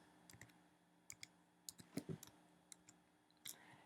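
Quiet typing on a computer keyboard, a scattered run of light, irregular key clicks close to the microphone, with no talk over it.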